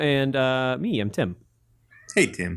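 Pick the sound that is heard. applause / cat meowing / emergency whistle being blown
cat meowing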